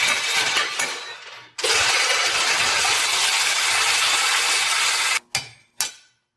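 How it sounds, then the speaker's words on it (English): A Sawzall reciprocating saw makes a relief cut inside a sleeve on an abandoned Tri-Five Chevy build, a loud, harsh, steady rasp of several seconds between brief clunks and short bursts. "I was hoping not to make that relief cut on the inside of the sleeve with the Sawzall"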